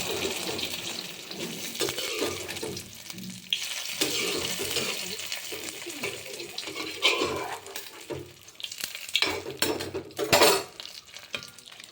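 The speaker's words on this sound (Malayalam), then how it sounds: "ഇതിൻ്റെ പിന്നാലെ തന്നെ ഞാൻ ഇതിലേക്ക് ചട്നി ഒഴിക്കുന്നുണ്ട് കേട്ടോ" Chutney is poured into a hot tempering in a pan for sambar, giving an uneven sputtering sizzle with splashy bursts and pan clatter that swells near the end, with no speech.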